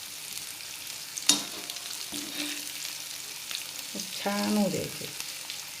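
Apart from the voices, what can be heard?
bitter gourd frying on slow gas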